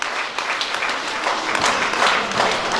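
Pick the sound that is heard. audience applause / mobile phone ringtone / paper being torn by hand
audience applause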